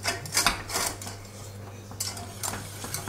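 A whisk scrapes and clinks against a pan while stirring salted butter caramel. Two or three quick metallic swishes stand out, close and clear, with no talking.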